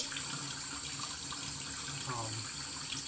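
Water runs steadily from a tap into a sink, a constant close hiss with no breaks, with a faint voice briefly audible underneath.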